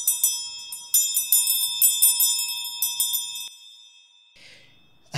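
A bell rung before class starts, struck in a quick, even series of bright rings for about three and a half seconds, then falling silent apart from a brief rustle and a final sharp tap.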